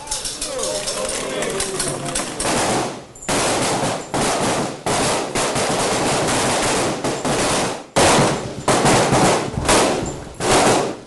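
Bursts of rifle gunfire ring out on an Air Force basic training firing range, loud and sustained with brief gaps between volleys, as shouted commands carry over the shooting.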